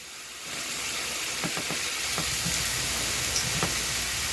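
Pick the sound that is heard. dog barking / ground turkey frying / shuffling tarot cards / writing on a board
ground turkey frying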